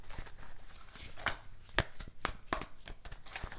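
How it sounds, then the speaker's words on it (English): A large tarot deck is shuffled by hand, the cards riffling and slapping in soft irregular bursts with a few sharper taps, close and quiet. "This is kind of a harder deck for me to shuffle because it's a bigger deck."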